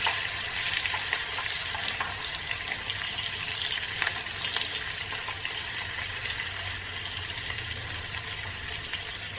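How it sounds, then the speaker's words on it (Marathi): Crushed garlic cloves frying in oil, a faint, steady sizzle and hiss that runs unbroken close by, with no talking over it. "त्यानंतर सहा ते सात लसूण पाकळ्या घेतल्या त्या अशा जारसं थोड्या ठेचून घेतलेल्या आहेत तेलामध्ये भाजून घेऊया"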